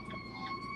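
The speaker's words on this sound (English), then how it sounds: "Hey, there's a fire engine." A fire engine's siren sounds as a brief, faint wailing tone, heard from a distance and alone.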